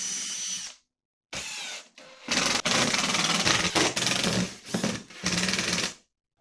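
Nail gun firing brads to join wooden table saw fence parts, a burst of sharp, close shots in quick succession. A few clustered loud bursts come after a short opening spell and a pause.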